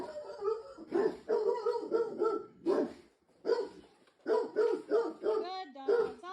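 A dog barks and yips in a rapid series of short, close bursts, with brief pauses between groups and a whiny edge to some calls.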